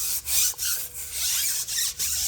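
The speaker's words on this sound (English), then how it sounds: "scrub this wheel well, agitate it so the chemical can do its trick" Brush scrubbing the grimy wheel well of a Honda Civic, rhythmic bristly rasping strokes up close with brief pauses between passes.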